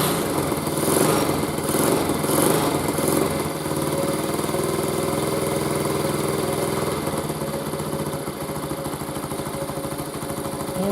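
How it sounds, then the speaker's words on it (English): A Honda CT70 mini trail motorcycle engine idles steadily from a cold start with a smooth, even putter and light mechanical vibration, close by, with no voices. "you can see it's idling nice and smooth, and the engine is stone cold right now."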